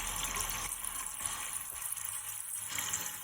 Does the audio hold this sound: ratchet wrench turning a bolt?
no